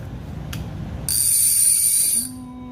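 Clicker on an Avet MXL fishing reel, purple, ratcheting in a steady burst that runs about a second, loud and close, then trails off into a fading tone.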